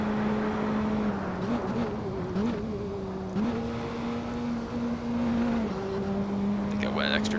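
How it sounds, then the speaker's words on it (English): A Praga R1 race car in Assetto Corsa drones steadily at high revs, with a quick downshift blip midway through and someone talking over the engine. "Extra downshift there, that was a mistake. Thought I was going to 3rd and I ended up in 2nd."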